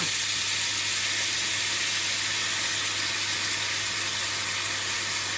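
A pan of pumpkin and pork belly sizzling loudly as fish sauce goes in, a continuous dense hiss with a steady low hum beneath and no talking.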